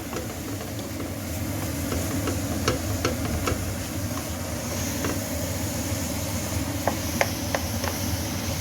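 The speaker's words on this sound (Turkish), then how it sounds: "Şimdi kıymasını koyuyoruz. 350 gramlık kıymayı koyuyorum." Medium-fat ground beef, 350 grams, dropped onto sautéed onions in a pan for börek filling, giving a continuous close sizzle and hiss dotted with small crackles and pops.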